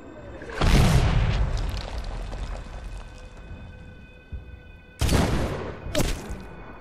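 Heavy mortar blasts land in a military shooter game: one deep boom that rumbles on for a while, then two more sharp impacts about a second apart near the end. All three are loud and close, with low ambient battlefield noise between them.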